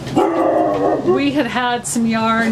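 A dog barks and yips in short, close bursts outdoors at a knitting pavilion, overlapping with a person talking.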